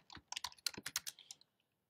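Quick burst of typing on a computer keyboard, a rapid cluster of crisp key clicks lasting just over a second, fairly close and quiet, then silence.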